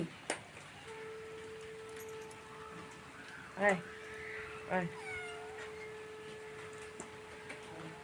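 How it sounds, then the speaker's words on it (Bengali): A cat gives two short meows a second apart, fairly faint against a quiet room with a steady background hum. "শুধু একটাই কথা ম্যাও আর ম্যাও ম্যাও আর ম্যাও শুধু করে যাচ্ছে"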